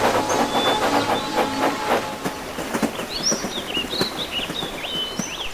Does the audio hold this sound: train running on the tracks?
yes